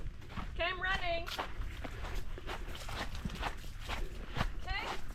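A person runs through jungle, footfalls thudding in a quick steady rhythm close by. Talking runs over them, and a brief chirping call sounds near the start.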